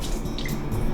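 A short burst of water pouring and splashing out as rinse water is drained from rice, close and steady, with faint dripping and no voices.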